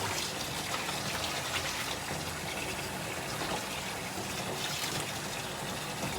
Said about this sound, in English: while I'm waiting for my sink to fill up